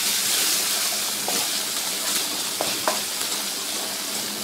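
Onions sautéing with ginger-garlic masala in a pan for cauliflower peas kurma, a continuous close hiss of frying with a few faint stirring clicks.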